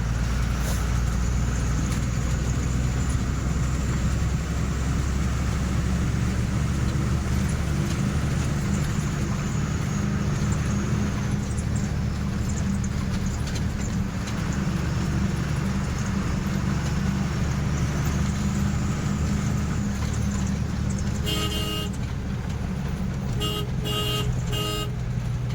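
Congested road traffic with vehicles stuck in a long jam, a constant loud roar of engines, with a cluster of horn toots near the end.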